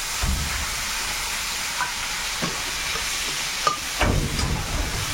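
Bay leaf, panch phoron spices and chopped onion fry in hot oil in a karahi during outdoor Sundarban-style cooking, giving a steady soft sizzle with a few brief clinks and stirring knocks.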